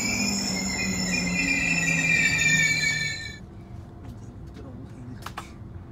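A train rumbles along near Friedrichshafen station with high, sustained wheel squeals for a few seconds, then the noise drops away to a quiet hum with faint clicks.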